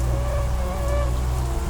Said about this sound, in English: Rain lashed the glass.